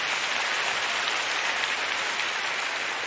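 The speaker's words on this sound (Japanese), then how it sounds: "じゃあまずロメオだと思う方拍手してみてください。" An audience applauds for Romeo at a live voice-actor stage event, steady dense clapping at even loudness from start to finish, with no talk over it.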